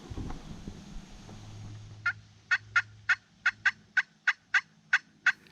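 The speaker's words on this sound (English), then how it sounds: "And they're gobbling." Wild turkeys gobble in a series of about ten short, bright calls in quick succession, moderately distant over a quiet outdoor background with a low hum early on.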